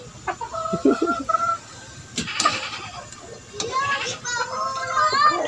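Chickens cluck nearby, one hen about to lay, while people talk and children's voices mix in, busy and outdoor-sounding.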